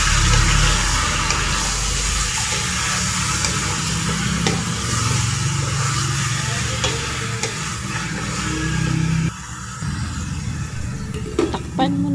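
Chicken pieces and onion sautéing in a pan for tinola, stirred with a steady scraping and sizzling that runs loud and continuous throughout, with a brief dip near the end.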